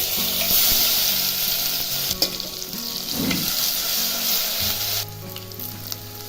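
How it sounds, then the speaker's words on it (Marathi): Mustard seed tempering sizzles loudly in hot oil as a coarse paste of cumin, garlic, ginger and green chili goes in, with a steady frying hiss, light stirring scrapes and occasional spattering pops. "मोहरी तरतडली की जिरं टाकायचं आहे आणि त्यामध्ये ही भरड केलेली ही टाकायची आता"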